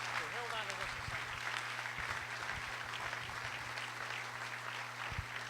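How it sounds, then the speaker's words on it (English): Applause fills a round at an awards dinner, a steady wash of hand-claps over a constant low hum, with people talking across it. "Let's give him a round of applause."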